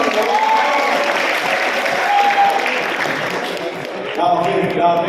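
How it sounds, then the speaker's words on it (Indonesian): An audience at a school civic-awareness session in Bekasi applauds for a twelfth-grade student, giving a steady, fairly loud wash of clapping with voices and faint tonal sounds mixed in. "Tepuk tangan buat IPS nih."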